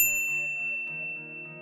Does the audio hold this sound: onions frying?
no